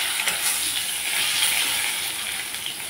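Potato pieces fry in oil with cumin seeds and bay leaves, a dense, steady, bright sizzle heard close up and loud throughout, with no voices.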